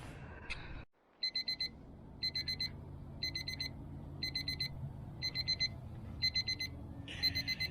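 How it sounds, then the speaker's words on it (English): A kitchen timer alarm on a Lang 84 Deluxe smoker cooking brisket beeps in regular bursts of rapid high-pitched tones, about seven groups roughly a second apart, over a low background hum. "that is the sound that the alarm makes when the food is done"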